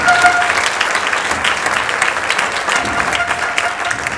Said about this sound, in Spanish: fuerte el aplauso para Jaime